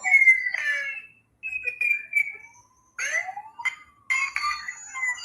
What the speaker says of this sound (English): That alarm is going off outside right now.